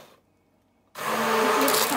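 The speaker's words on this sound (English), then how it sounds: "We have to blend it with our blender, hand blender, and we are not going to make very fine." Hand blender starting up with a sharp onset and running steadily, coarsely chopping mustard greens for sarson ka saag, a loud continuous whir close by after a near-silent pause.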